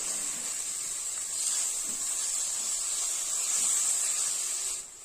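Mint and coriander leaves sautéing in a pan for vegetable biryani, giving a steady, soft sizzling hiss that carries on evenly throughout.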